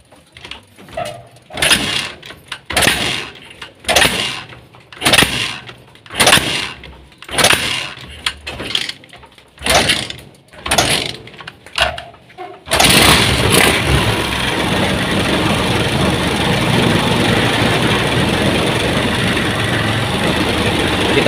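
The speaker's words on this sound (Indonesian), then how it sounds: "Nah, motornya nggak mau stasioner kawan ya." A motorcycle engine with a faulty ignition pickup struggles to idle, sputtering in uneven surges for about twelve seconds before catching and running steadily at a loud, constant roar.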